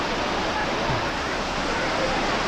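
River water rushes at the confluence of the Vyas Ganga and Narad Ganga near Rishikesh, a constant broadband roar that stays loud and even throughout.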